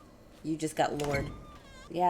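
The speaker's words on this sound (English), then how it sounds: "That's a cat." A cat meows in short, high pitched calls near the start and again at the end, while people talk excitedly over and between the cries.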